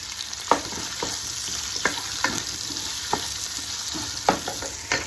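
Onions sauteing in a pan give a steady loud sizzle, with a spoon knocking and scraping at irregular intervals as they are stirred.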